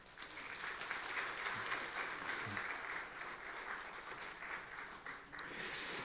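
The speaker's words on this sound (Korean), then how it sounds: "박수 한번 하고" A church congregation applauds right after a prayer at a Sunday worship service, a faint, distant and steady patter of clapping across the room.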